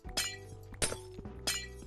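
Three sharp glass-breaking crashes in a Minecraft-style game, evenly spaced about a second apart, loud and close over a steady background hum with faint game music.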